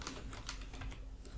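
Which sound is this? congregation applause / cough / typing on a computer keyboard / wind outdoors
typing on a computer keyboard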